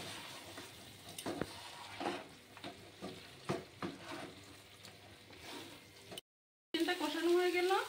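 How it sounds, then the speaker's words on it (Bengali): Fried potatoes going into a wok of spiced chicken over a medium flame, with scraping stirs and a steady sizzle; a short silent gap comes late, then louder frying returns. "কড়াইতে এবার ভেজে রাখা আলুগুলি দিয়ে দিচ্ছি।"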